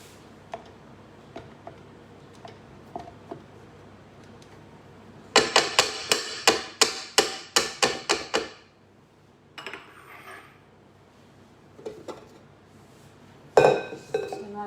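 Cupcake frosting beaten in a bowl, a quick run of sharp clinking strokes of a utensil against the bowl, then a pause and a few more scattered clinks.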